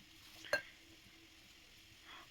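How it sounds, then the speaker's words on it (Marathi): Green beans sauté quietly in a pan over a low flame, a soft steady sizzle with one brief utensil clink near the start and no talking. "शेंगा इकडे छान परत आहे कमी गॅसवर इकडे।"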